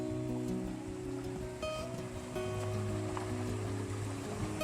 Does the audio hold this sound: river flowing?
yes